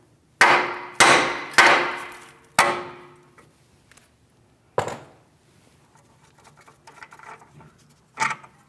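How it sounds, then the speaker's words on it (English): Light hammer taps ring out on a Chevrolet Malibu outer tie rod end, four quick metallic strikes in a row, then two more spaced hits, each a sharp close clang with a short decaying ring. "A couple light taps with a hammer here."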